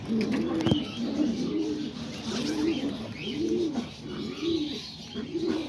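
Pigeons in a loft on a rainy day coo in a repeating rhythm, about seven rolling calls close by, with a brief sharp chirp near the start and soft background noise.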